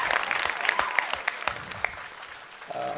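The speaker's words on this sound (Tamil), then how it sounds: "ஒரு பெரிய கைத்தட்டல் கொடுத்துடலாம்." An audience at a public speaking event claps briefly, with sharp individual claps spread unevenly over a few seconds before fading out.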